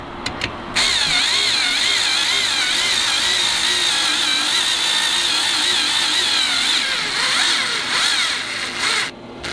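A power drill drives a bolt into patio furniture, revving in one long, loud, close burst whose pitch wavers as it strains, stopping near the end after a few short clicks at the start.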